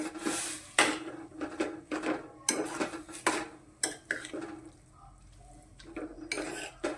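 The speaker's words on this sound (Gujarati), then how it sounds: "હવે આપણે આને મિક્સ કરી લઈએ" Spoon stirring fenki masala with fresh green coriander in a pan, made from leftover cold rotis: a run of clinking, scraping strokes against metal at close range, uneven in rhythm, with no talking.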